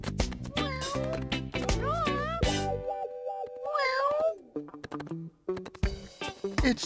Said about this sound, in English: It's Ginger Cat.